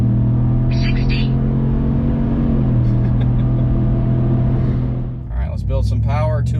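A truck with a 5.0 engine accelerates hard in two-wheel drive with its tires spinning, a loud steady engine drone rising in pitch, then a brief dip and renewed roar near the end.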